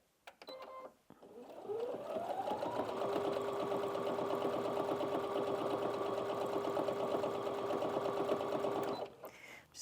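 A Brother Innov-is NV1800Q sewing machine runs a sustained stitching burst, its motor winding up to a steady, close whirring hum with a fine rapid needle rhythm, then stopping after several seconds.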